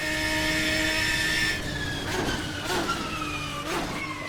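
Ferrari race car from the Assetto Corsa GT Legends mod, its engine whining high and steady before dropping away into rougher, fluttering revs with a few sharp rasping bursts, close and loud.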